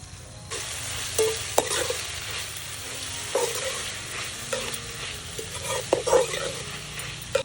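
Tomato and chopped spring onion frying in a pan over a wood-fired chulha, a constant sizzle broken by several spoon stirs and scrapes at uneven intervals, close and moderate in level, with no talk.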